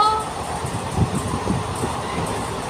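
A passenger train on the Howrah to Kanyakumari route rumbles along steadily, with a constant low roar and faint clacks heard from inside the carriage.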